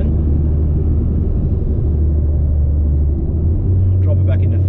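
A Mitsubishi Evo X cruises in sixth gear, its engine giving a loud, steady low droning rumble with constant road noise from inside the cabin, while someone talks over it.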